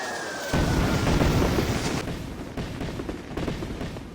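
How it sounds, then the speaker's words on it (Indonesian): In an anime battle, a grenade combined with fireworks explodes in a sudden loud blast that rolls into a sustained, crackling rumble with further bursts. "granat itu pun langsung meledak."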